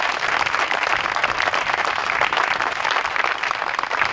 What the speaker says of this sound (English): Let's give just one more round of applause to Brown Farms